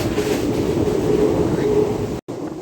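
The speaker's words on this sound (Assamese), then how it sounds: "এতিয়া বৰ্তমান আমি ট্ৰেইনত উঠিলোঁ" A passenger train rolls along steadily, a dense, continuous rumble of the carriage filling the interior, broken by one brief dropout near the end.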